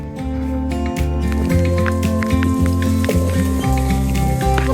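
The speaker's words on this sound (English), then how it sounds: "So, now it's raining." Rain falling outside a boat anchored in the Bahamas, a soft patter over a steady low engine or generator hum and tonal droning, with scattered drips.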